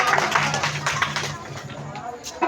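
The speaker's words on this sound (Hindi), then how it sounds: "जोरदार ताली बजा दीजिए एक बार।" An audience at a religious gathering claps loudly, with dense, overlapping claps and crowd murmur. The clapping is strong at first, then thins out and fades, and a voice can be heard under it.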